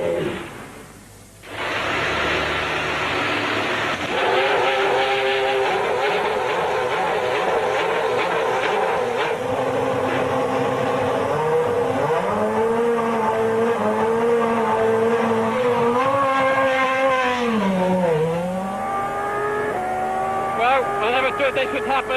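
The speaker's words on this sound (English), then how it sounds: "we're on the racetrack in a Ferrari" A Ferrari F1 2000 race car screams around a racetrack, its high-revving engine climbing and shifting through gears in long continuous pulls, loud and close, with someone talking over it.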